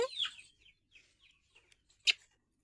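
A hen clucks a few times up close, followed by short scattered clucks and one sharp squawk near the end.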